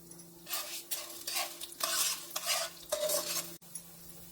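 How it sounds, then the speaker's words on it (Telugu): Chana dal frying in a little oil in a pan, stirred in bursts of scraping and sizzling over a low steady hum, close by with no voices. "కొద్దిగా ఆయిల్ వేసుకొని శనగపప్పుని వేసుకుని ఫ్రై చేసుకుంటున్నాను"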